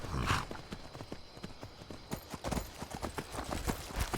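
Hooves pound in a fast, regular galloping rhythm in Skyrim, close and fairly loud, with a brief whoosh at the start.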